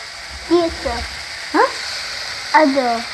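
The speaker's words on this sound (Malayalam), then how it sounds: "നമ്മുടെ സവോളയും തക്കാളിയൊക്കെ നന്നായി വഴന്ന് വന്നിട്ടില്ലേ" Onions and tomatoes sauté in a pan for a chicken biryani, giving a steady low sizzle beneath a few short rising voice-like tones that come and go.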